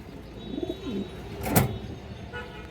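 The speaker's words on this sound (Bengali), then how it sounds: "এই যে দেখেন অনেক সুন্দর কৌতর মাসাল্লাহ" A pigeon close by gives a few soft, rolling coos, then a short rustle or flutter breaks in. It is heard alone with no talking.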